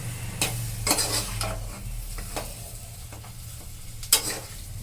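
Potatoes tossed with a red-chilli spice paste in a frying pan: repeated spatula scrapes and knocks, some sharp, over a low sizzle and a steady hum.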